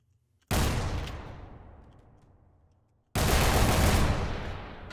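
Heavy heat cannon weapon in the People Playground video game fires twice, each a loud sudden blast with a long fading roar, about two and a half seconds apart, with no voices.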